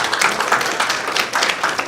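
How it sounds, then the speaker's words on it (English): An audience at a parish gathering applauds, a brief burst of many hands clapping at moderate distance, dense and steady for under two seconds. "I think we should give Michael and the catechist a round of applause."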